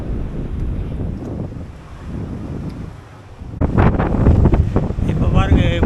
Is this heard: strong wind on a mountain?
yes